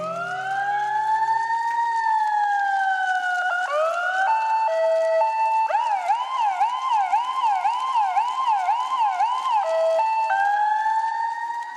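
A siren sound effect for a bike in a children's story rises and falls in long wails, then switches to a fast warbling yelp before returning to a steady wail, loud and clear throughout.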